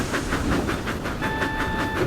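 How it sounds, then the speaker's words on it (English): Steam engine train running fast along a main line, rapid rhythmic chuffing bursts in quick succession under a steady rolling rumble, with a brief whistle-like tone joining midway; close and fairly loud, no voices. "Percy began to thunder down the main line."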